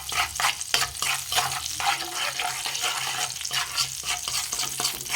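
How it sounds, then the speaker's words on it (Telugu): A spoon stirs chili powder, turmeric and salt into hot oil for an egg pulao, making rhythmic scraping strokes over a soft, continuous sizzle. "తిప్పేసుకుందాం"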